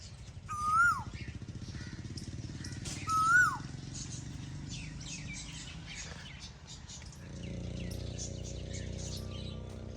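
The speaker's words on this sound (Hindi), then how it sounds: "उस साइड पे कोयल की आवाज़" An Asian koel calls twice from a village in summer, clear rising whistled notes standing out over a steady engine-like hum and scattered chirps of smaller birds, with a low mechanical drone continuing near the end.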